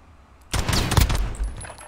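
Shotgun blasts with slug rounds in Call of Duty Modern Warfare, a sudden loud burst of close gunfire followed by a second thump and short ringing decay.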